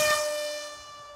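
Dart XL RC plane motor spinning an 8045 propeller on a 6S Mini Drak powertrain, a loud close steady tonal whine that slowly fades over about a second.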